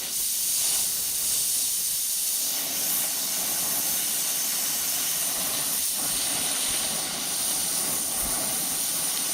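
A fire torch heats a piece of metal until it glows red-hot, making a loud, steady hiss and roar that runs without a break.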